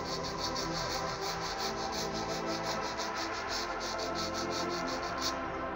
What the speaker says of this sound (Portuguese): nós vamos precisar lixar a parte de cima da bobina para fazer contato